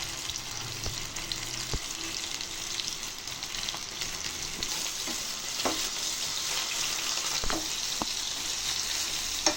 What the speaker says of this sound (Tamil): இப்போ பொறிக்க